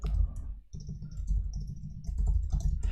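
Keystrokes on a computer keyboard during a live trading stream, a steady run of close clicks and taps over a low background hum, with a short pause near the start.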